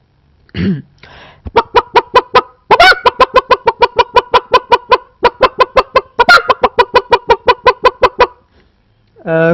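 A man imitates a hen being bothered, with rapid, insistent cackling clucks in long runs, punctuated by sharper squawks, close and loud, performed on stage.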